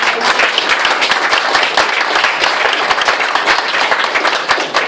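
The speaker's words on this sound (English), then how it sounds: "Can we give them another round of applause?" Loud, close audience applause for a boys' group performance at a broadcasting campaign event, thick continuous clapping throughout without speech.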